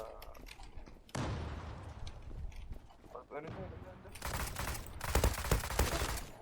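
Gunfire in the online shooter game Zula, with bursts of rapid shots and clattering impacts that grow louder and denser toward the end, mixed with other game noise.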